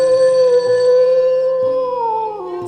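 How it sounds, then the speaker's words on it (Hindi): A telephone rings inside a house on a very cold night, one sustained electronic ringtone that holds steady, then dips slightly in pitch near the end, loud and close with no voices. "तभी उनके फोन की घंटी बजने लगती है।"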